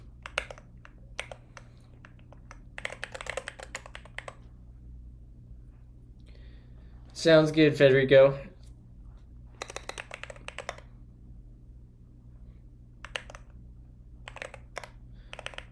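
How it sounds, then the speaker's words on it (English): Typing on a computer keyboard comes through as soft scattered bursts of key clicks, with quiet pauses between them and a steady low hum. A person speaks briefly partway through. "I switched back to my other keyboard this morning"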